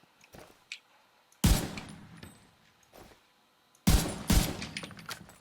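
Automatic gunfire in The Division 2 comes in two loud, close bursts separated by quieter stretches with a few softer single shots and clanks.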